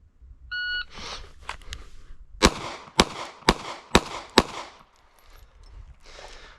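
A shot timer beeps once, then a Glock 42 pistol fires a string of five sharp, evenly spaced shots outdoors, each loud and close with a short decay and faint ambient noise between.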